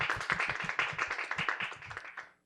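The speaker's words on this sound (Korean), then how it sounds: "교수님께 다시 한번 큰 감사의 박수 올려드리겠습니다" Race cars, including a Corvette and a Tesla, roar past one after another on a race track, engines loud and droning with rising and falling pitch, some talking underneath.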